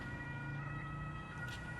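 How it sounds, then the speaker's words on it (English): An emergency vehicle siren sounds faint and distant as it passes a roundabout, holding a thin, steady tone over a low rumble of traffic. "the siren coming into shot is just the perfect way to finish this video"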